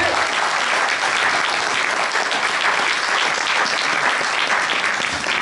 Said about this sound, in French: On peut l'applaudir un peu plus fort